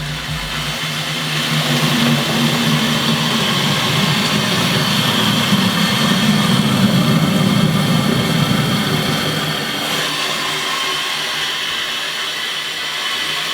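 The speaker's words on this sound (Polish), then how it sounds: "Lejemy wodę." Water mixed with vitamins is poured for rabbits in a breeding transport carrier, making a loud, steady rushing stream that swells slightly and then eases, with no voices.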